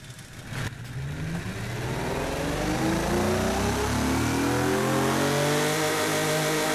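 A simulated 8.0L V12 dune truck engine in the game Automation revs up in one long, rising climb, growing louder and higher as it builds to a sustained roar, with no voices.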